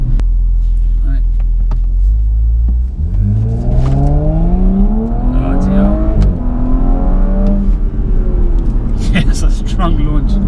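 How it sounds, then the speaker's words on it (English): A 2018 Audi S4 Avant launches hard using launch control. A loud, close engine holds a steady high idle, then surges and climbs through rising revs with gear changes. Occupants talk inside the cabin. "we're just going to launch the car now. It is a very effective launch control"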